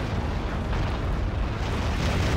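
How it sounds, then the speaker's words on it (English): Artillery fire in the Act of Aggression real-time strategy game, a dense, continuous low rumble of distant shelling and explosions that holds steady throughout with no talk. "He's got artillery fire."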